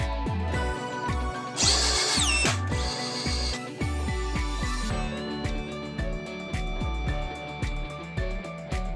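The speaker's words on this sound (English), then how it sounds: "Press trigger until the pin breaks." An E7 battery-powered setting tool whirs in repeated short mechanical bursts, pulling a pin until it snaps with a sharp crack, then continuing in a steady rhythmic ratcheting cycle, close and clear without speech.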